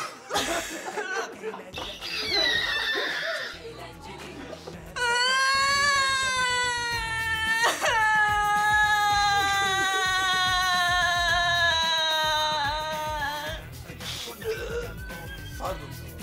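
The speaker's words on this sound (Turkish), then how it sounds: "Bu nasıl bir ağlama be yavrum?" Loud, high wailing cry holds for several seconds, rising and wavering, with shorter cries and voices before and after it.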